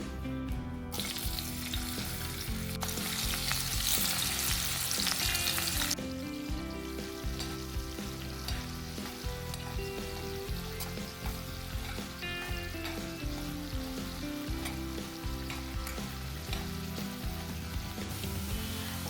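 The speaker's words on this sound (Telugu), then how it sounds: "మనం కడిగి పెట్టుకున్న ఉప్పు చేప ముక్కల్ని నీళ్ళన్నీ పోయే వరకు పిండి దీంట్లో గోల్డెన్ బ్రౌన్ వచ్చే వరకు వేయించుకోవాలి" Washed salted fish pieces fry in hot oil until golden brown. There is a constant close sizzle with occasional stirring scrapes and a brief louder burst of spattering near the start, and no talk.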